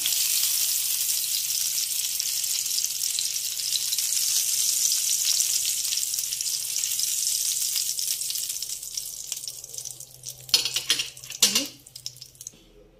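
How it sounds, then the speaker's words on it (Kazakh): Liver frying in a pan with a bright, steady sizzle for most of the time, fading toward the end where a few metallic clinks of a utensil against the pan ring out. "Өте жұмсақ, жақсы қуырылып жатыр."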